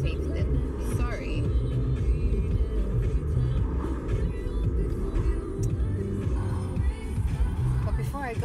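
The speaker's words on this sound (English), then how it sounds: "there is a little bit of traffic" Steady low road rumble of a car driving through light traffic, a continuous engine and tyre drone filling the whole stretch with faint passing-vehicle swells and no talk.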